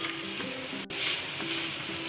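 Capsicum, green chilli and chicken for spring roll filling stir-fry in a pan, an even moderate sizzle with a faint hum underneath and one brief dropout.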